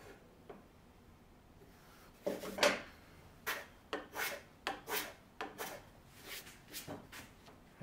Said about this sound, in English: I'm going to chamfer this edge.